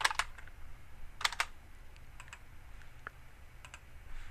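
Keyboard keys clicked in short bursts of sharp taps while entering commands for a 2016 eternity band jewelry design, with scattered single keystrokes between, close and fairly quiet with no talking.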